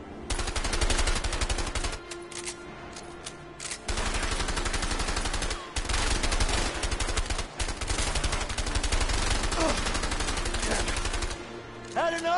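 Rapid bursts of automatic gunfire fill a PS4 shooter game, loud, dense and sustained, broken by a few short gaps before the firing resumes.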